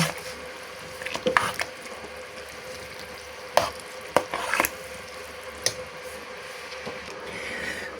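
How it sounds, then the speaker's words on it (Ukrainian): Beans and vegetables being mixed in a pan for a winter preserve: faint sizzling under a few scraping stirs and utensil knocks, quiet and intermittent with no talk. "Тепер все це добре перемішую."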